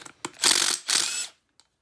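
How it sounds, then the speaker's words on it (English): A ratchet wrench with a 7/8 socket works the flywheel nut of a Johnson/Evinrude 9.9/15 hp outboard motor, giving two close bursts of rapid clicking with a short pause between and no talk. "7/8 socket for the flywheel nut."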